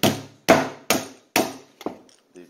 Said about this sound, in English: Do the same thing, just hit that with the hammer, loosen it up, pull it off.